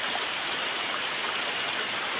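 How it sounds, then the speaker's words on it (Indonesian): Heavy rain falls steadily in a wild forest, a dense, even wash of drops pattering close and constant with no pauses. "Rintik hujan pun sepertinya"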